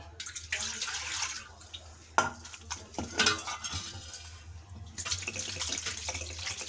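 Tap water runs and splashes while homemade butter is washed by hand, with uneven gushes, drips and a few light clinks, close by and without speech.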